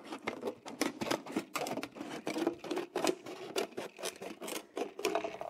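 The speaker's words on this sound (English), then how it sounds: "squeeze the bottle and then just carefully cut" Scissors snipping around a squeezed plastic pop bottle, a run of quick crisp cutting crunches in an uneven rhythm, close and fairly quiet with no talking.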